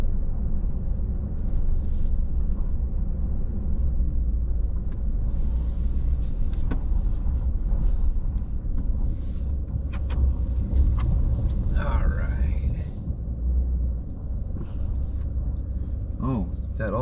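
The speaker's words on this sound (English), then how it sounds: "Got to kind of drive slow too because I got all my tools on the tailgate." A pickup truck creeps along slowly with tools resting on its open tailgate, its steady low engine rumble filling the scene, a few light clunks and rattles near the end, with people talking over it.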